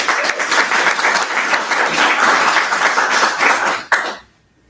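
Audience applause thanking candidates at a US House District 2 forum, dense steady clapping from a crowd filling the room for about four seconds, then cutting off abruptly.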